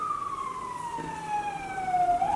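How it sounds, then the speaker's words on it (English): A siren wails in one long, steady descending tone over a low Chicago city hum, then starts climbing again at the end. "sirens, that's city living for you."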